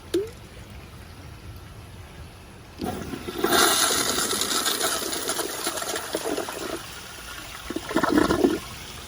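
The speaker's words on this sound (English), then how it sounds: "let me see if it'll flush a rock like this" A Kohler Kingston toilet flushes with a rock in the bowl: quiet at first, then a sudden loud rushing gush of water that swirls and gurgles, easing slightly before a final surge near the end.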